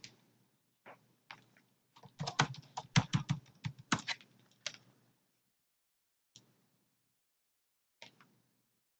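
Keystrokes on a laptop keyboard, a few scattered taps and then a dense burst of quick typing in the middle before it thins back to isolated clicks, close and fairly quiet.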